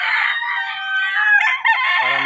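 Roosters crowing and hens clucking in a backyard chicken coop of Boston Roundhead fowl, a loud close crow that breaks into overlapping calls and a short cluck at the end.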